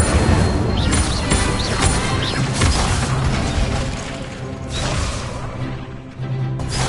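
Incendio fire spell cast in Hogwarts Legacy, a loud, continuous rush of crashing, roaring blasts with bursts of impact, filling the whole stretch with dense game noise.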